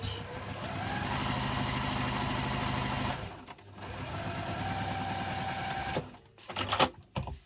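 A sewing machine runs a construction-length stitch along the inside seam of an urban messenger diaper bag, whirring in two steady, rapid bursts separated by a short pause and then stopping.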